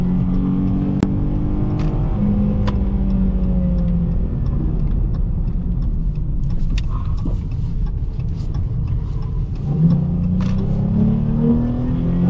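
A 2022 Dodge Charger GT drives and accelerates, its engine note rising in several sweeping revving pulls over a constant loud road rumble, heard from inside the car.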